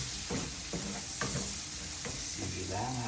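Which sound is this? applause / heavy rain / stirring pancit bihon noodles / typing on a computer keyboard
stirring pancit bihon noodles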